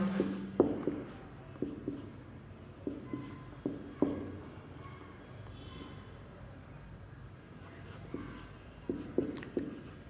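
A marker or chalk writes on a board during a chemistry class, giving quiet, scattered taps and short scratchy strokes in irregular bursts, with no talk.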